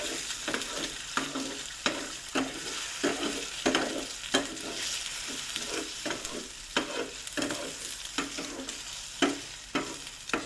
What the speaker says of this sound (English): you just have to stir it around for a while